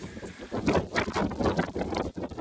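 Gusty wind buffeting the microphone on the summit of Mount Oberon at Wilsons Promontory, loud rumbling bursts that rise and fall, no voices.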